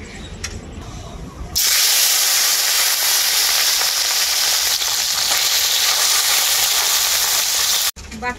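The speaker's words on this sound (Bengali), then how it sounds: "বাকি মাছগুলো আমি একইভাবে ভেজে নেব।" More fish hits the hot oil and a loud, dense sizzle and hiss swell up and hold steady close by, cutting off abruptly near the end.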